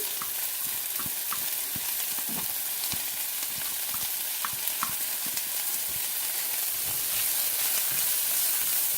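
Whole onion frying in simmering oil, a steady close hiss and sizzle with scattered small pops and crackles, with occasional stirring.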